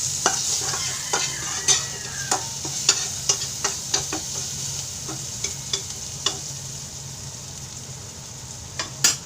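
Fried rice being stir-fried with carrots and Baguio beans, a spatula scraping and clacking against the pan in irregular sharp taps over a steady low sizzle, close and fairly quiet.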